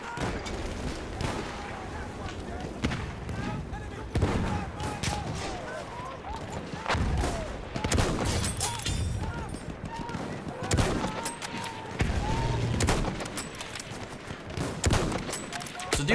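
Gunfire in the video game Battlefield 1 multiplayer: repeated sharp bursts of rifle and machine-gun fire, some close and loud, others distant, with occasional heavier blasts across a busy battlefield.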